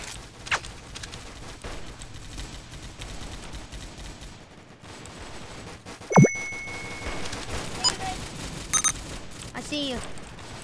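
Gunfire in a Roblox shooting game, sporadic shots and metallic dings scattered over continuous background game noise, with a loud sharp burst midway and a few more pings after, while a voice talks throughout.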